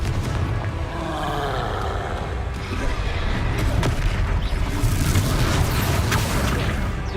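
Spell combat in Hogwarts Legacy with Confringo fire blasts: loud booming explosions and crackling bursts layered over dense game noise, continuous throughout with rising intensity toward the end.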